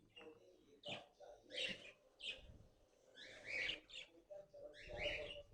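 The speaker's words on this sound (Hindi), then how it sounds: "ये मेरा लव बर्ड का पेयर है अल्बिनो ब्लैक आइज का" An albino black-eyed lovebird pair gives repeated bright, chirpy calls in short bursts, fairly close and alone with no talk.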